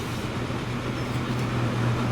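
A train in the video game Transport Fever 2 rolls past with a steady, loud, low rumble and a faint rattle of wagons that holds for the whole stretch.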